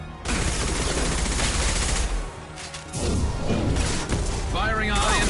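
High impact gunfire in Mass Effect 2, loud dense bursts of rapid shots and impacts that briefly drop off midway before resuming, with faint voice chatter underneath.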